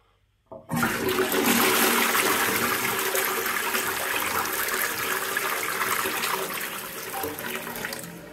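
A toilet in a hotel bathroom flushes with a sudden loud rush of water that roars steadily for several seconds and slowly starts to ease, heard close up with no voices.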